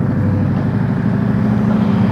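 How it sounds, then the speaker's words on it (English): A car speeds through a red light at an intersection, a loud steady engine and road roar close by with no pause. "That car ran that red light and almost got smashed."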